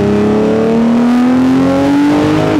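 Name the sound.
Nissan GT-R R35 engine revving and accelerating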